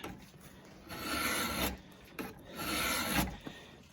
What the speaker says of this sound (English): And draw filing, it's actually kind of pleasurable and it's pretty easy